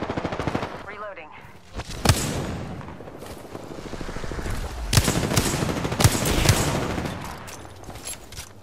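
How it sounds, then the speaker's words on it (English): Apex Legends gunfire: repeated loud shots and automatic bursts crack through dense in-game action, with sharp peaks scattered over several seconds and a voice heard in the mix. "Opening fire."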